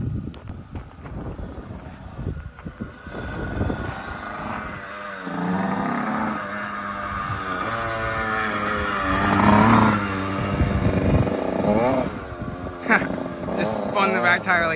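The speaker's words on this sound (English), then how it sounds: "Just spun the back tire like it was nothing." A dirt bike with a 14-tooth front sprocket revs hard while spinning its back tire, the engine climbing and falling in pitch through heavy wind noise on the microphone, with a person talking over it.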